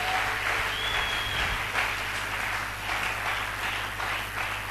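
A church congregation applauding loudly, steady dense clapping sustained throughout with faint background sounds beneath.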